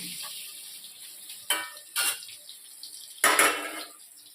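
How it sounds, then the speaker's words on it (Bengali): Mango pieces go into hot oil a few at a time for a mango murabba. Three separate bursts of sizzling flare up and fade, with a quiet hiss in between. "তো অল্প অল্প করে দিয়ে প্রতিটা আমি একটু ভেজে নিতে হবে।"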